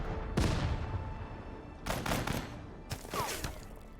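World War II tank gunfire in the tactical video game Total Tank Generals: three heavy shot bursts about a second apart, each a sharp blast trailing into a rumbling tail, loud and alone.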